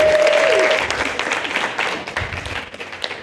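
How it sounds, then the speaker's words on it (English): Workshop audience giving a round of applause, a full burst of many hands clapping that gradually thins and fades, with a faint voice near the start. "give me a round of applause for that"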